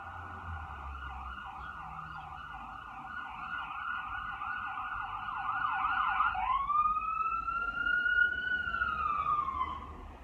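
Emergency vehicle sirens wail outside, first a rapid yelping pattern and then a long rising and falling tone, moderately distant and steady with no talk over them.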